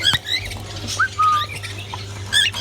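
A female cockatiel at a bird seller's shop gives several short, loud squawks and chirps close by, with sharp calls at the start and end and scattered rustling between, no talk.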